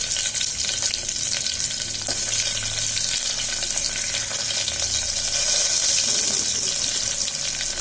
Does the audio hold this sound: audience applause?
no